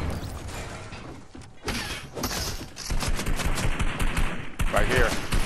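Rapid bursts of gunfire in the Fortnite video game, dense and continuous over several seconds with sharp shot clusters, loud and busy with no clear talk over it.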